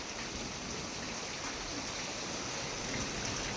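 Rainwater leaking through a house roof and dripping into a basin and onto a gas stove, heard as a steady, even patter of water close by, with no talking.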